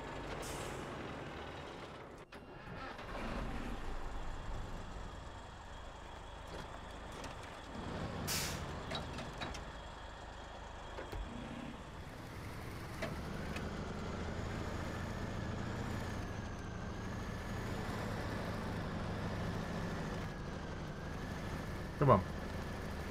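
Heavy truck engine in SnowRunner, a continuous low rumble with hissing air brakes and occasional beeps, a steady drone under intermittent talk.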